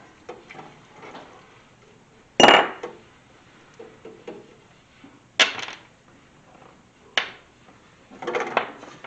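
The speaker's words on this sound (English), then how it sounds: "Pull all the parts out." Metal parts from a Champion 4500 generator engine are lifted out of an ultrasonic cleaner, giving a few sharp, close metallic clinks and clunks spaced apart over a quiet background hum.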